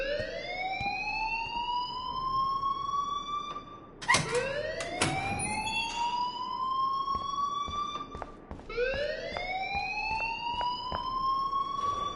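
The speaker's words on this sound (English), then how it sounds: "please turn off that alarm since that's your job" A rising and falling electronic alarm wails over and over in the video game Life is Strange, its sweeping tone steady and prominent, with a short burst of clatter partway through.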